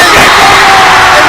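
Loud, dense roar of a volleyball crowd cheering, yelling and whooping as fans storm the court after a USN girls' match win against Webb, a sustained wash of voices with no pause.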